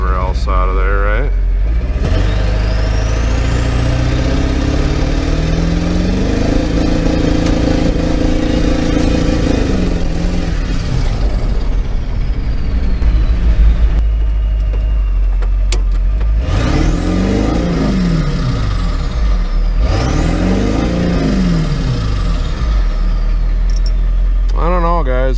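A Ford F550 Powerstroke diesel truck with a starting problem and a misfire revs hard, its engine note rising and falling in repeated loud swells, close by and with no talking.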